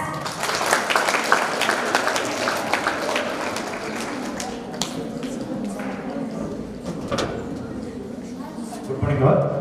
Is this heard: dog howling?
no